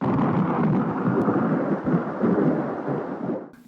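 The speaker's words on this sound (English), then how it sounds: "A thunderstorm drenches books in Sayat-Nova's home." A thunderstorm rumbles through a film scene, a loud sustained roll of thunder with rain noise, swelling and dipping over several seconds before cutting off near the end.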